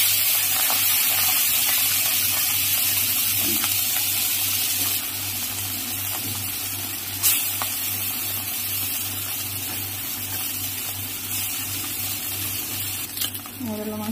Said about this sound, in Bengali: কড়াইতে আমি তেল দিয়ে দিলাম, তেলটা আমার গরম হয়ে গেছে।